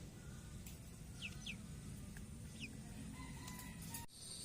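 Steady background din of chickens in a coop, with occasional short calls and clucks rising above it, fairly distant, no talking.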